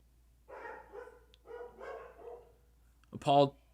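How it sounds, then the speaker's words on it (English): Muffled voices murmur, then a single sharp dog bark rings out loud and close near the end. "Apologies for the dogs if you hear them."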